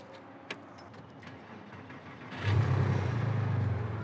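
A classic car engine cranks and fires up after a quiet stretch with a single click, then settles into a loud, steady rumbling idle close by.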